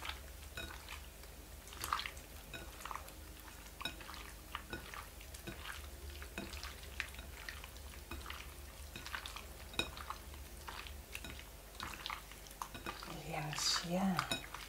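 Utensil gently stirring soft fish fillet with beaten egg in a pan or bowl, light intermittent scraping and clinking taps close by over quiet background.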